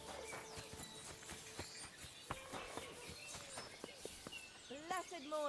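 Steady clip-clop of horse hooves in Kingdom Come: Deliverance II, walking at an even pace, with chirping birds and ambient outdoor noise around them.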